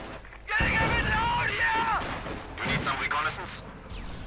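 Gunfire and artillery blasts in the World War II strategy game Company of Heroes 2 boom and crackle loudly in close succession during fighting around a church, with a commentator talking over the battle.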